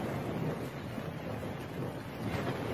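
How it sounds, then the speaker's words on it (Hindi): Heavy rain and gusting wind in a Hindi cartoon story, a steady rushing wash of noise that stays fairly even throughout with no voices over it. "फिर चिड़िया तेज बारिश में तोती के घर जाती है।"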